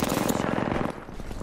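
Rapid automatic gunfire from the video game Apex Legends, a dense rattling burst of shots that runs through the whole moment, close and loud, easing slightly near the end.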